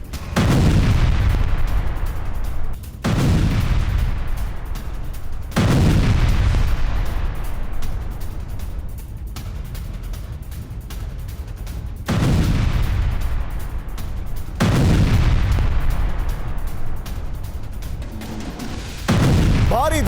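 Heavy, booming blasts from an Israeli strike on a Hezbollah base in southern Lebanon, several loud explosions in succession, each a sudden deep burst that rumbles and decays before the next.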